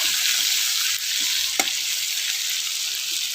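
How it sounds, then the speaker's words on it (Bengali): Potatoes fry in oil in a pan over a village clay stove, giving a loud, steady, close sizzle with one brief stirring scrape partway through. "দেখি আলুটা ভাজা হলো কিনা।"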